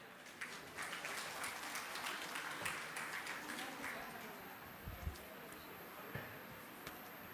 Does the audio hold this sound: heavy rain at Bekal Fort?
no